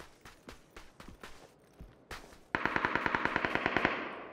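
Bursts of M16 rifle gunfire in a video game: scattered shots first, then a loud, rapid automatic string of evenly spaced close reports lasting nearly two seconds, with no talking.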